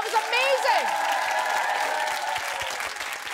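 Studio audience at a school quiz show applauding and cheering the teams, sustained clapping with a few whoops and a voice rising over it early, then an even wash of claps.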